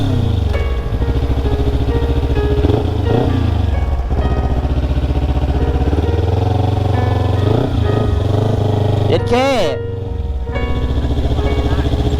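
A loud, steady two-cylinder Ninja 300 motorcycle engine runs close by throughout, with a sharp rev surge near the end before settling back to a rumble.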